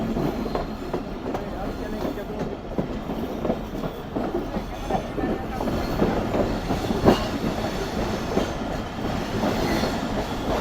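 Passenger train running on the Larkana railway station route in heavy fog and winter, a steady rumble of carriages with faint clickety-clack and occasional knocks, heard from inside the full train with some voices present.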